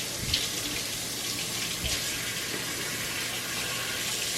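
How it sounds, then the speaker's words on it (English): Tap water pours into a kitchen sink during handwashing, a constant close splashing rush with a few faint knocks and bumps beneath it, with no talking. "So now you're gonna wash your hands, you guys."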